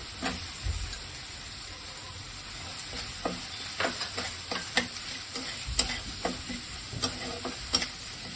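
Chopped onion and spices fry in a pan for a potol and prawn dish, a steady broadband sizzle running throughout with irregular scraping stir clicks and spatula taps at close range, no voices present.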